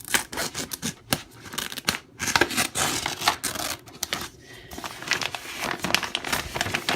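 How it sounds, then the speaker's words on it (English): Scissors cutting down the seam of a reusable shopping bag, with close crinkling and snipping of the fabric in uneven bursts, heard alone with only brief pauses. "So I'm going to start cutting into my bag."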